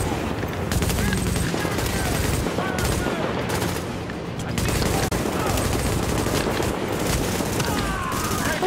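Light machine gun fire in the video game The Division, long loud sustained bursts of rapid automatic shots with booming impacts, continuous through the clip while players talk underneath.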